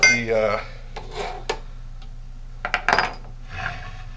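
A metal measuring spoon scooping and scraping wax in a container, giving several short metallic clinks and scrapes, close and fairly clear, separated by brief pauses.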